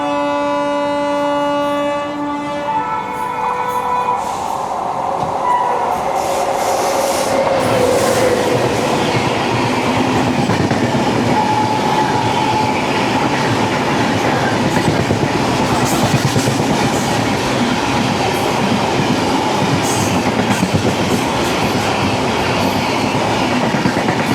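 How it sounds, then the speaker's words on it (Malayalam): A Thiruvananthapuram North–LTT Garib Rath express passing at speed, announced by a horn, then a loud, sustained rumble and clatter of coaches going by close, with no voices. "തിരുവനന്തപുരം നോർത്ത് LTT ഗരീബ് രത്ത് വരുന്നുണ്ട്."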